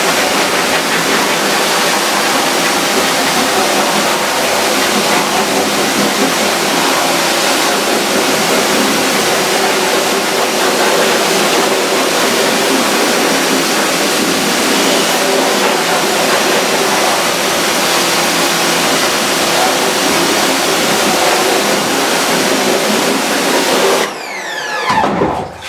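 Steady loud rush of water rinsing a degreased screen printing screen, a continuous spray that runs unbroken for about twenty-four seconds before cutting off with a brief clatter at the end.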